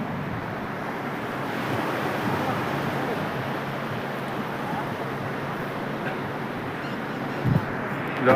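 Sea waves wash onto the shore at Dwarka, a broad, steady rush of surf blended with wind noise. A brief bump and rumble comes near the end.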